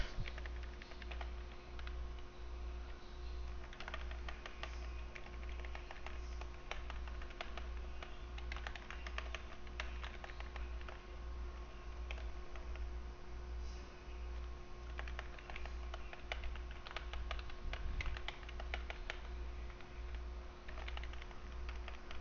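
Rapid keyboard mashing during a TERA sorcerer PvE rotation, a continuous stream of quiet clicky keystrokes over a steady low hum with a constant tone, no talking.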